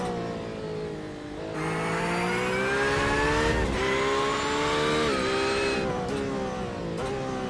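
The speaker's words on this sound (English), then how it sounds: "is there a better sound than a mid-engine Porsche?" A mid-engine Porsche race car engine heard from on board at Circuit of the Americas, loud and close, revving hard and sweeping up through the gears with sharp shifts.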